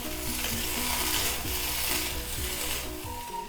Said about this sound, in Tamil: நல்லா மிக்ஸ் பண்ணிவிடுவோம்.